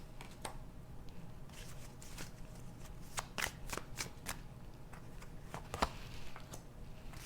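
Tarot cards shuffled and drawn by hand at a reading, a run of faint, close, crisp riffles and flicks in uneven bursts against a quiet room.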